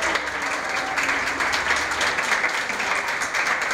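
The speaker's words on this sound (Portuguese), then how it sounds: "sob o aplauso dos profissionais de saúde que seguravam balões e cartazes" Hospital health workers holding balloons and signs applaud a recovered Covid-19 patient leaving the hospital, a steady dense crowd of clapping that is loud and continuous throughout.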